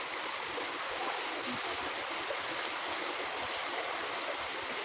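Floodwater rushes steadily through a Philippine neighborhood during Typhoon Basyang, a dense, constant broadband wash of flowing water at moderate level with no clear breaks, heard from close by.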